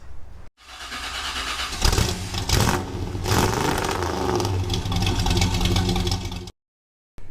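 A cheap auction side-by-side's engine runs loud and steady after a shifter cable repair, with a sharp rev burst near the start before settling into a continuous mid-pitched drone that cuts off abruptly near the end.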